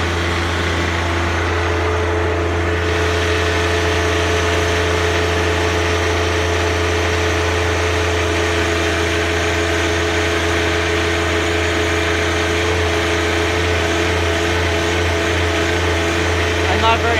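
A 2018 John Deere 1025R compact tractor with 120R loader, its engine held at a high steady 3,400 RPM, a loud, continuous droning hum close by that barely changes across the whole stretch, with someone talking over it.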